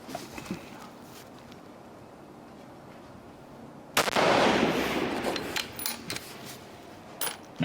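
A single loud rifle shot cracks out partway through an F-Open shooting match final, followed by a decaying rumble and a few faint clicks at an outdoor range.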